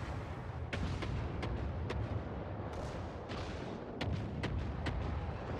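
Repeated heavy battleship gun salvos and booming shell fire from World of Warships naval combat, several sharp blasts spaced irregularly over a constant rumbling battle din.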